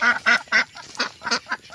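Three ducks quack at a village pond, a close, loud run of about eight raspy calls in quick, uneven succession, with no talking.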